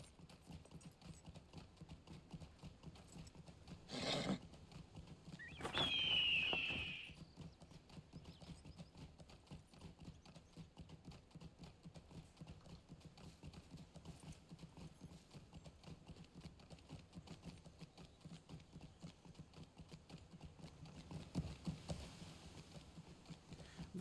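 Horse hooves clip-clop in a Gondor video game, a short burst of steady hoofbeats near the start, with a brief neigh-like sound and faint game ambience for the rest.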